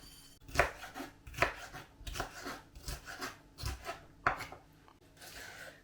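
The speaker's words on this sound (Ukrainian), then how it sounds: "Перець нарізаю на три частинки" Rapid knife strokes chopping a bell pepper on a cutting board, about eight crisp cuts in an uneven rhythm, close and moderately loud with no voices.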